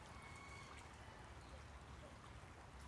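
Soft, steady murmur of flowing water at a rural spot, faint and continuous, with no voices.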